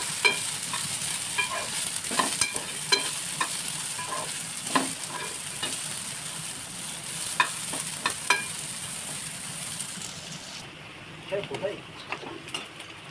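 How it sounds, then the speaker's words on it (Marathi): Cluster beans frying lightly in hot oil with curry leaves and green chillies, a steady close sizzle broken by stirring clicks and scrapes, with a voice talking over it. "आता तेलामध्ये फ्राय करून घ्यायचं आहे. त्याला हलकंच परतून घ्यायचं आहे"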